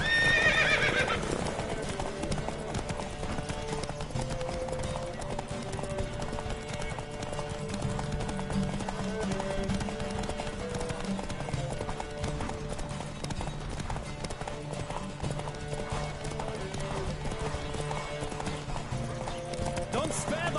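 Horse hooves clip-clop at a fast, steady gallop through a race in The Witcher 3, with neighs and whinnies, backed by continuous game music and voices talking over it.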